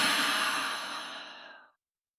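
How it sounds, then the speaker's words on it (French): A single long exhale through the mouth during a Hatha yoga session, close and breathy like a sigh, fading out after nearly two seconds into silence. "reprendre à nouveau une inspiration par le nez et une expire par la bouche"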